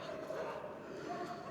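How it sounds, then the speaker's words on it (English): Stray dogs bark in scattered yips and woofs at a distance somewhere in Italy, faint and muffled under a steady background wash. "Loads of them barking away."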